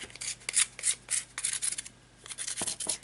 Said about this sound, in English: use the sandpaper to make sure the edges are all smooth